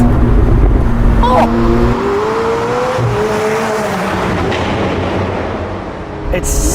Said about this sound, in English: Listen to the pops and bangs.